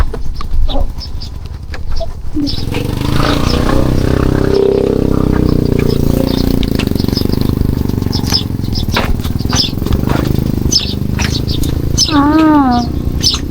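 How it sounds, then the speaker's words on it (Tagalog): A motorcycle engine drones steadily as it rides through a narrow path on the way to Leyte, close and continuous, with voices talking and a brief animal-like cry near the end. "Papasok pala ang motor doon."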